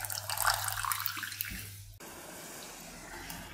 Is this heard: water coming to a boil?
yes